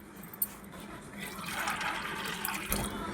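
Running tap water while soaked chana dal is washed for a banana flower vada recipe, a steady splashing stream that swells in the middle, with faint talk underneath.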